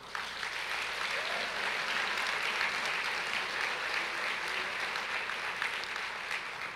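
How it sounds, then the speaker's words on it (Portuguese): A church congregation applauds during a Portuguese-language service, producing a continuous, even patter of many hands clapping that carries on for several seconds at a moderate, somewhat distant level. "Agora você pode aplaudir ao Senhor."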